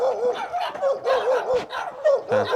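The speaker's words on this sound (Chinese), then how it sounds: "养了好多狗，可爱小狗狗" Several dogs guarding a mountaintop home bark in a rapid run of repeated yaps and yips, loud and close, with a brief whimpering note near the end.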